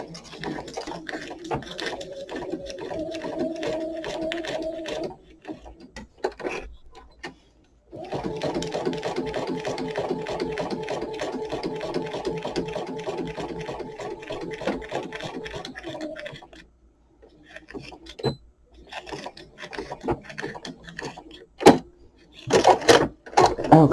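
Sewing machine back stitching fabric onto an envelope, running in two steady mechanical bursts separated by short pauses, close and clear with a few handling clicks afterward.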